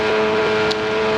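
A Benelli 350cc racing motorcycle at full throttle during the Manx GP gives a sustained, steady high-revving engine drone, heard on board and loud, with a brief flutter partway through.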